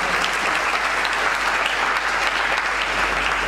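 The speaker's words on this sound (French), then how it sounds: "je vous prie de les applaudir pour les encourager" An audience at a hackathon final applauds, a dense, steady wash of clapping from many hands filling the room at even loudness throughout, with no speech over it.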